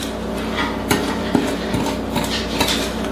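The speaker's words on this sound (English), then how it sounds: "I'm going to kind of stir this together here." A spoon stirs strawberry rhubarb pie filling in a bowl, making irregular scraping clinks against the sides with a few sharper knocks, fairly close and steady.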